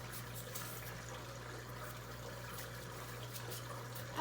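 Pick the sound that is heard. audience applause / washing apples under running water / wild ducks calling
washing apples under running water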